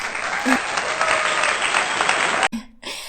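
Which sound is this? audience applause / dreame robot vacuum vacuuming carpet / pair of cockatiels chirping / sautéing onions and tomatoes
audience applause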